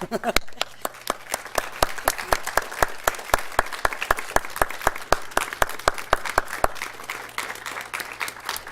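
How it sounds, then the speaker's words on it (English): Audience at a city council meeting claps in a rhythmic, evenly spaced beat, loud sharp claps repeating steadily for several seconds over a murmuring room, with some talk underneath. "Can we clap for her?"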